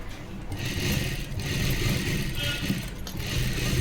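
A sewing machine hums in a fast, even run while stitching a princess-cut blouse, loud and close, with a low motor drone throughout and no speech.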